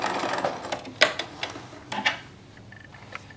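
A sewing machine back tacks a set-in sleeve seam in short, close stitching bursts with sharp mechanical clicks, then settles into quieter ticking.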